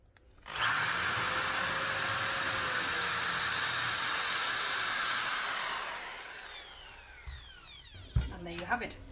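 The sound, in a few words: drill boring holes in pine at high speed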